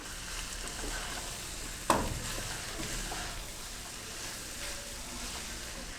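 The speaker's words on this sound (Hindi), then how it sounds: "शिमला मिर्च और बंद गोभी को मैं चिकन के साथ मज़ीद 3 मिनट भून लूँगी।" Capsicum and cabbage frying with chicken for a chicken vegetable macaroni, a steady broadband sizzle with one sharp stirring clatter near two seconds, close and moderately loud, with no talking.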